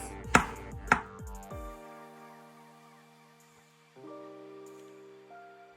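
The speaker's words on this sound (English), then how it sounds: "Vamos a cortar también en cubitos chiquitos." A knife strikes a cutting board twice in quick succession while vegetables are diced into small cubes, two sharp close chops, after which sustained music tones carry on alone.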